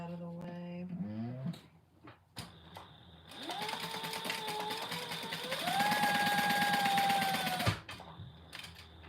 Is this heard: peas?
no